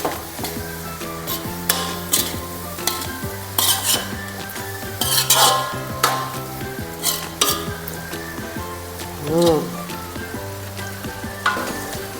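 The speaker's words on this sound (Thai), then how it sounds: "คนค่ะ คนให้เครื่องปรุงมันเข้ากันด้วยค่ะพี่น้อง" A bamboo shoot and pork belly mixture with seasonings is stirred in a pot, the utensil scraping and clanking steadily against metal amid a constant sizzle, close and loud with no talking.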